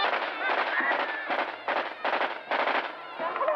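Celebratory gunfire is fired into the air during a wedding, rapid bursts of shots in quick clusters separated by brief gaps, loud and dense throughout.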